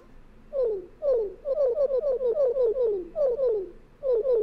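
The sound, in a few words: Jinjo sound in Banjo-Kazooie video game quiz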